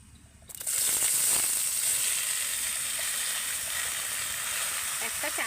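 Ash gourd pieces drop into hot oil with panch phoron and burst into a loud, steady sizzle that holds for several seconds after a brief quiet start, with a few soft clinks near the end.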